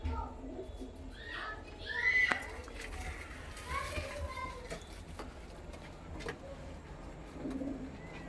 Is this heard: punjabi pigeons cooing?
yes